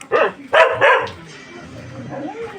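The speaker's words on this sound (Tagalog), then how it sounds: "Ayan, may mga aso." A dog barks a few times close by, sharp yelping barks, followed by quieter whimpering and background noise.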